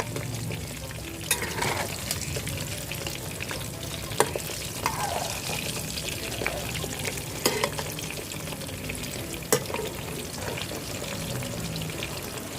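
Shrimp donuts deep-fry in hot oil with a steady, even sizzle that runs throughout, broken by occasional light clicks and taps from turning the pieces.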